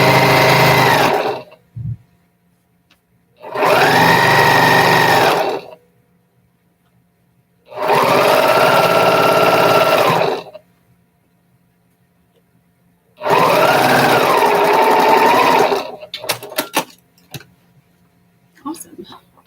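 A sewing machine stitches quilt strips in four separate bursts of fast, whirring motor hum, each lasting a couple of seconds with quiet gaps between, close up and loud.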